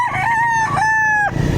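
A rooster crows loudly and close at a weekend chicken market in Lipa, Batangas, one full drawn-out cock-a-doodle-doo with a rising, held and falling call.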